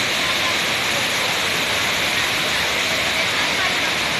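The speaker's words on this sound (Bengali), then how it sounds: "কৃত্রিম ঝর্ণা" Artificial waterfall at the Hanging Garden, a steady, dense rush of falling water that stays loud and unbroken throughout.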